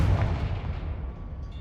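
A Confringo blast spell in the video game Hogwarts Legacy: one heavy, booming explosion that starts at full force and rumbles away over about a second and a half.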